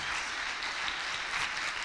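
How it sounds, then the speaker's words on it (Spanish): A church congregation claps loudly in praise to the Lord, a dense, steady wash of applause that holds throughout. "Dale un aplauso al Señor esta tarde, por favor. Pero dáselo fuerte."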